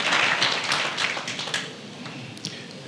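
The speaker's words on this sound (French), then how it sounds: "je demande que l'on les applaudisse très fort pour le travail qui a été" Audience applause at a 2019 Bridge Bank party, a crowd clapping briskly and steadily that is loudest at first and then tapers off, with scattered claps continuing until the end.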